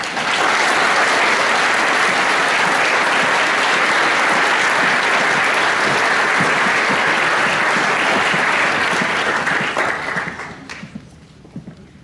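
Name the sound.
applause at a graduation ceremony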